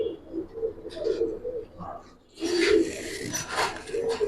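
A pair of young military pigeons coo in soft, low, throaty phrases at close range, with a short pause before a louder run of cooing.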